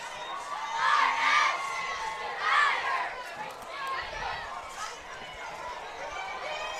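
A packed, standing-room-only high school football crowd at a night game cheers and shouts in swelling bursts, children's voices among them, with the loudest waves early on and a steady roar of chatter underneath.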